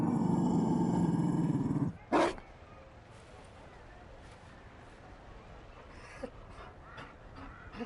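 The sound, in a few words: Mabari war dog from video game Dragon Age Inquisition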